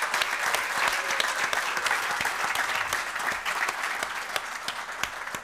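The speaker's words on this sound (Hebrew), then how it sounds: "אפשר באמת למחוא כפיים לגיא פניני" Sustained applause from a press conference audience honoring a basketball player's retirement, dense and steady clapping throughout with no talk over it.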